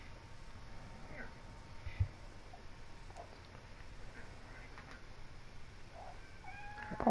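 A cat meowing and yowling repeatedly over steady room noise, a few cries standing out louder than the rest, with faint background sounds between them.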